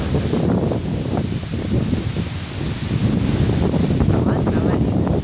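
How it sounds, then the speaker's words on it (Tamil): Strong wind sweeps across Panandur lake, buffeting the microphone with a continuous loud roar and gusty low rumble that never lets up. "காற்று செம்மையாக அடிக்கிறோம்"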